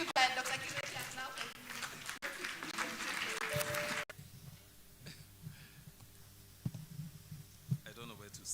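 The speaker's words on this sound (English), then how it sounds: "Let's give Dr. Kireti a clap." Audience applause for a doctor at an International Women's Day event, a loud, dense burst of clapping for about four seconds that then drops away to quieter room sound.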